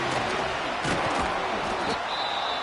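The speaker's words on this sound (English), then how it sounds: "The Buffalo crowd being heard before third down." A Buffalo Bills home crowd roars in a football video game just before a third down, a steady dense wall of stadium noise that fills the whole stretch, with some voices mixed in.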